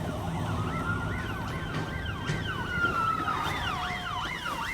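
Wailing emergency sirens from police cars and ambulances arrive together, several overlapping yelping and rising-falling tones at moderate distance over a steady street hum, with no talking.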